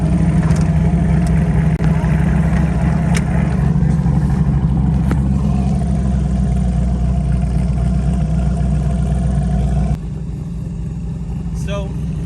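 A steady, loud engine drone runs throughout with a low rumble, like a pontoon boat cruising nearby just after launch; the tone drops slightly near the end.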